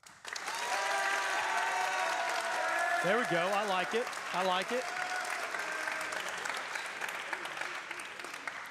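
Steady crowd applause fills a high school football event, loud and sustained throughout, with a voice briefly speaking over the clapping.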